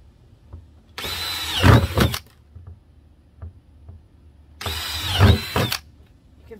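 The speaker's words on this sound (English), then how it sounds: "I'm going to start drilling holes up along the top." A power drill bores holes into a plastic trash can in two separate bursts of about a second each, with the motor whine rising and then dropping off. It is loud and close, with quiet gaps between.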